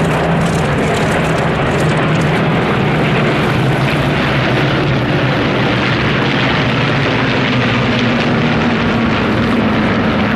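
Vintage aircraft fly past at the Duxford Flying Legends air show, a loud, sustained propeller engine drone that fills the whole stretch with a steady roar.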